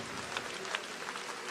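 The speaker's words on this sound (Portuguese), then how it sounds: "Essas palmas foram lindas" A church congregation claps during a worship service, a faint, dense patter of many hands heard from a distance, with no clear talking over it.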